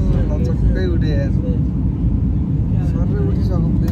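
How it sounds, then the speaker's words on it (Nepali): Steady, loud cabin roar of an airplane taking off, a dense low rumble that holds throughout while people talk over it. "सबै उठिसक्यो प्लेन"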